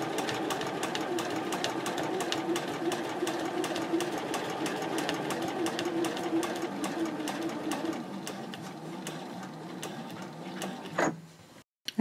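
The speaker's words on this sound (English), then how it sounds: "I'm going to sew over to that second line, pivot, and sew down on the line" Sewing machine stitching a mini backpack card holder, a rapid even run of needle strokes that carries on for most of the time, then slows and stops near the end.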